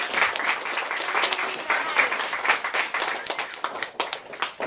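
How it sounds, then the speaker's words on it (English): Applause from elementary school students for a visiting politician, Chad Eros, a lively burst of many hands clapping with uneven swells, close and continuous. "can you please join me in giving Chad Eros a round of applause?"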